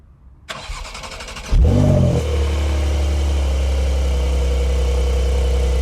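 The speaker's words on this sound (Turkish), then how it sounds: "Evet şimdi şu aracın sesini artık duyalım" A Porsche 911 Carrera GTS Cabriolet turbo engine cranks briefly, catches with a loud roar, then settles into a steady low idle that continues to the end.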